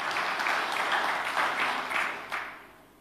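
A church congregation breaks into applause during a sermon, a dense wash of clapping that holds steady for a couple of seconds and then tapers off, at a modest distance.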